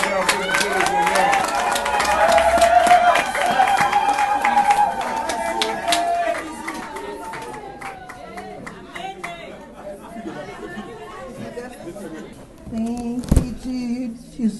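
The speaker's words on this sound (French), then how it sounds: "Applaudissez le Seigneur, applaudissez le Seigneur." A church congregation claps its hands in worship, sharp claps mixed into loud communal singing and voices, strongest in the first half before easing back.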